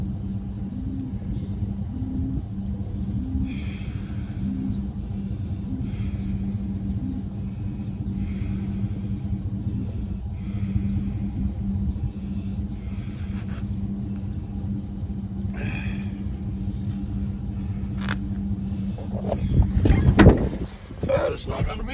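A truck engine idles with a steady low rumble throughout a cattle feeding, with a voice talking faintly over it and a louder burst of clatter near the end.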